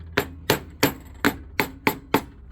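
Seven evenly spaced, sharp knocks as the wooden end of a hammer taps an engine part down onto the crankcase of a small 7hp Predator 212/GX200-style engine, close and crisp with brief decays between strikes.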